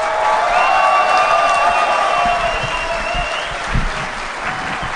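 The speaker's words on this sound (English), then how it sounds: "Round of applause." A conference crowd at DEF CON 17 breaks into loud, sustained applause, clapping steadily for several seconds before it starts to fade.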